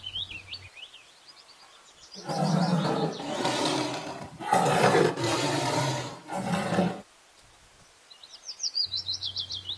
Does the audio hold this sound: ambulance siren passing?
no